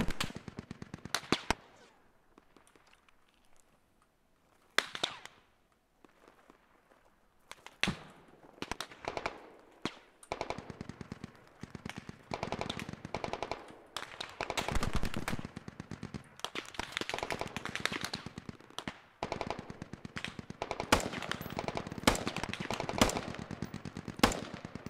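Machine gun fire in a video game, rapid rattling bursts that keep coming with brief gaps, loud and close, nearly continuous through the second half with no talking.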